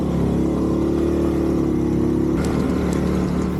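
A Honda CD70 motorcycle engine labors in a steady, loud drone while climbing the steep Gorakh Hill road, its pitch dropping slightly near the end with a couple of faint clicks.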